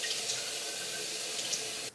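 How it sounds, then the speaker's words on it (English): Tap water runs steadily into a 16-ounce bottle, a continuous close hiss of filling that holds even, then cuts off abruptly near the end. "And then I fill up the rest with water."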